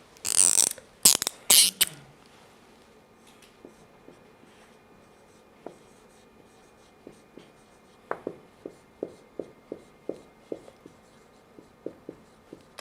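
Marker or chalk writing on a board in a statistics lecture: loud scribbling strokes at the start, then a run of short, evenly spaced taps and squeaks as characters are written, with no talking.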